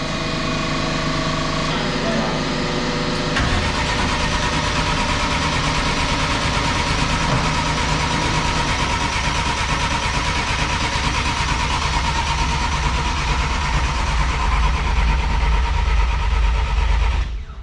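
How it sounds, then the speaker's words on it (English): Turbocharged race car engine at an import drag event is cranked over and fires, then runs with a loud, steady rumble close by, with people talking over it. "just crank it until you see oil pressure"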